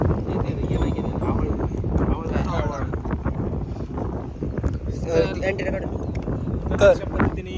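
Strong gusts at a mountain pass, Shindavne Ghat, buffet the microphone in a steady, roaring rumble, with people talking loudly over the wind throughout.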